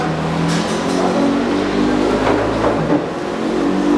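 A finished TM Racing motorcycle engine being run on a dyno inside the factory, heard as a steady mechanical drone with rising revving swells in the background, fairly distant and without talk.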